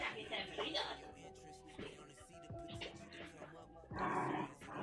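Several dogs bark, yip and growl in a lively cluster of bursts, fairly close, with people talking over and between them.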